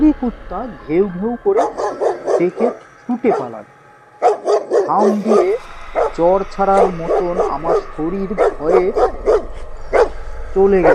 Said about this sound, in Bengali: নেড়ি কুত্তা ঘেউ ঘেউ করে ডেকে ছুটে পালাল।